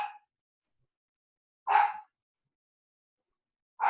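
A small indoor dog, set off by thunder, barks in short single yaps spaced a second or two apart. The barks are clear and fairly close against silence, with no talk.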